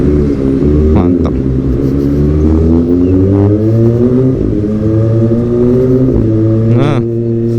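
Kawasaki ZX-25R motorcycle fitted with a Prospeed Shark black exhaust, revving loudly and close, its high-pitched engine note climbing and falling through repeated throttle blips and sustained revs.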